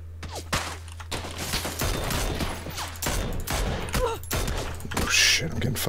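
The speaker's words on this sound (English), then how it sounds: "I'm taking shots from behind." Gunfire in a PUBG squad match, bursts of shots cracking at several points under excited voices of players talking over voice chat.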